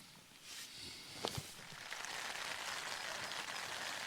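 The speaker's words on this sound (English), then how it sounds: "As you can hear, it's still raining." Steady rain patters in a soft, continuous hiss on a tent while wild camping in the Northumberland hills, with a couple of brief taps or drips early on and no voices.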